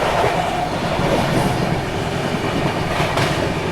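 The Kaifiyat Express sweeps through Pankidham station at speed, a loud, continuous rumble of wheels and carriages with steady clatter running the whole time, no voices over it.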